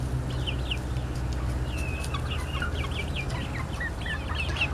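Young Black Australorp meat birds and other chickens cluck and chirp in short repeated calls on a farm with turkeys and ducks, moderately near over a low steady background hum, with no talking.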